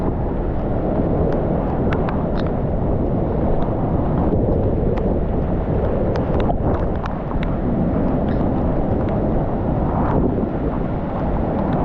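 Floodwater rushes in a steady, loud roar strong enough to swallow a bridge, a dense continuous wash of turbulent flow with faint crackles on top and no voices.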